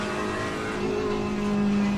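A GT3 race car at Monza in a racing game holds a steady, loud engine drone with a tone that climbs slightly as another car draws alongside and passes close by.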